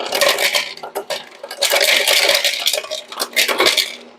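Ice cubes clatter and clink into a bowl to make an ice bath for cooling hard-boiled eggs, with bright, close rattles in quick bursts.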